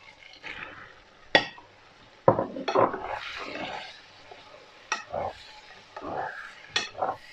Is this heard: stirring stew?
yes